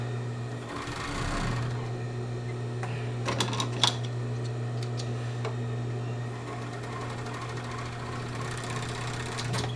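Home sewing machine stitching a sports bra, a steady close mechanical whir with a constant hum and a few clicks and taps partway through.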